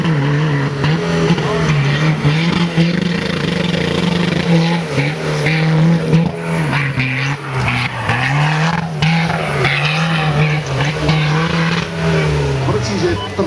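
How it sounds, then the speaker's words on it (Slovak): A Suzuki Vitara 4x4 in an off-road time-trial race holds its engine hard against the rev limiter, a loud bouncing wail that wavers in pitch for the whole stretch, with tire noise and a voice underneath. "to už je úplný obmedzovač, že už ten motor nemá kde ísť do ďalších otáčok"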